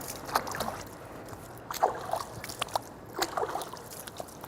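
Hands and forearms being washed up to the elbows with water for wudu, soft splashes and trickles arriving in small irregular bursts, close and fairly quiet, with no talking.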